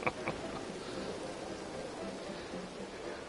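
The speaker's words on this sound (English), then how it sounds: "God damn, this rain. It's unbelievable." Steady rainfall in the Red Dead Redemption 2 game, a soft continuous wash of noise with faint drips and a couple of light taps at the start.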